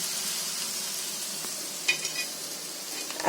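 Steady soft sizzle of Konkani-style alu vadi frying in oil in a pan, with a few faint clinks of a turner partway through and no talking.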